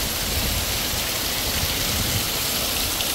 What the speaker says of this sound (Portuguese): É porque não dá pra vocês escutarem, por causa do barulho da chuva.